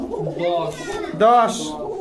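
Pigeons coo in soft, throaty bursts close by at a pigeon seller's loft in Bogura, Bangladesh, with people talking over them and a brief louder call near the end.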